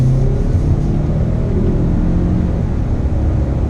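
A 2019 Mazda 6 sedan accelerating on the throttle, heard from inside as a loud, steady low engine rumble with road noise, continuous and without talk.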